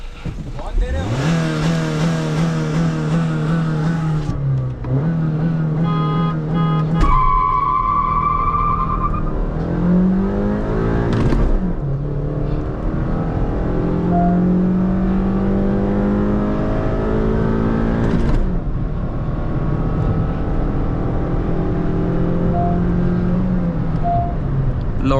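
Hyundai Verna 1.5L diesel and Honda City 1.5L petrol launching in a drag race: loud engines rev hard and climb through rising gear pulls for many seconds, with people talking over the roar.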